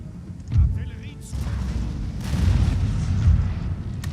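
Artillery firing grape shot in the Napoleonic strategy game 1805 European Campaign: a few heavy, booming blasts ring out over a continuous rumbling battle din, with a voice talking throughout.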